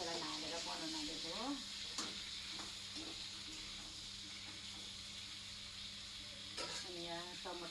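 Plain sliced onions frying in a pan give a steady, constant sizzle, with a voice speaking over it now and then.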